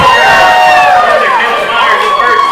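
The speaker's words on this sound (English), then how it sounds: "I'm sure you can hear this crowd" A large crowd of Sweeny Bulldogs fans roars and cheers steadily in the stands at a high school baseball regional semifinal, a dense, loud wash of voices with a commentator talking over it.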